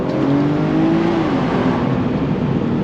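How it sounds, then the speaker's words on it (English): A BMW 340i running an E-blend fuel mix pulls hard in third gear inside a tunnel, its engine note climbing steadily and loudly with the roar echoing off the walls throughout. "every time we see a tunnel, we gotta do a pull."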